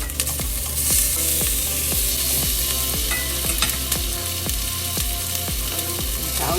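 Onion and garlic stir-fry in a wok over medium flame, a loud steady sizzle broken by regular metallic scraping strokes of the spatula, roughly two per second.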